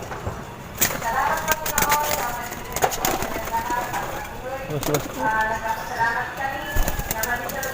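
Pigeons in a morning loft, soft cooing and bursts of wing flapping with scattered shuffling, fairly close, under a low background murmur.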